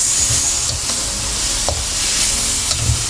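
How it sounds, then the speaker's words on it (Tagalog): Cabbage and shrimp sauté in a hot pan for a Filipino ginisang repolyo, with loud close sizzling and crackling oil and intermittent scraping stirs, no talking. "Ginisang repolyo na may hipon."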